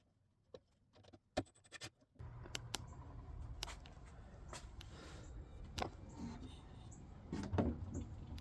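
A wooden drawer on a handmade live-edge table is worked shut: scattered sharp clicks and knocks, then a long sliding scrape with more taps and a firmer bump near the end.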